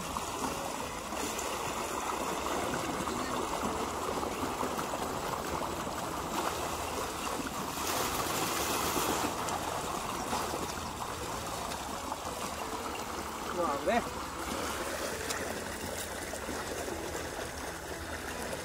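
Irrigation water running onto a field planted with coriander and leafy greens, a steady close trickling and gushing flow that continues evenly throughout with faint background hum.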